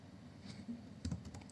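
Rapid, uneven clatter of keys on a computer keyboard while a command is entered on a Windows 10 PC, close and fairly quiet, with a slightly denser burst of keystrokes near the end and no talking.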